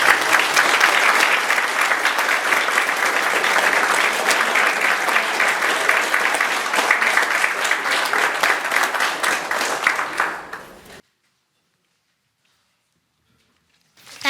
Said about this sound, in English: I want to thank both candidates for participating in the forum this evening, and I invite the audience to join me in a round of